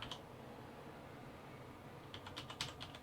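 Keys are pressed on a Corsair Vengeance K70 mechanical gaming keyboard with Cherry MX Red switches, a single click at the start, then a quick run of close, light clacks near the end over a quiet background hiss.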